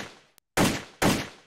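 An AK-74N rifle fires in the World of Guns game: two loud, sharp shots about half a second apart, each ringing out in a long, even decay, with no voices.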